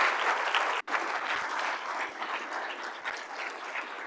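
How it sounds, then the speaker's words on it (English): Audience applauding the presenters at a Walleye Tank pitch event, a steady, dense round of clapping from a sizable crowd at moderate distance, with one brief dropout early on. "let's keep the round of applause going for all of our presenters"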